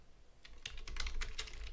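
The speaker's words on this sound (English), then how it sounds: "So I type character" Computer keyboard typing, a quick run of soft, close key clicks that starts after a brief pause and is quiet in the background.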